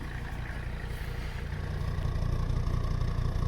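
An abandoned Mercedes 300CD with a diesel engine idles, blowing white smoke. Its low, steady rumble and clatter hold close and constant, rising slightly in loudness partway through.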